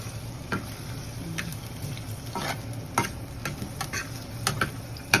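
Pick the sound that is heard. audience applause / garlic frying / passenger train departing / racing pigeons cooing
garlic frying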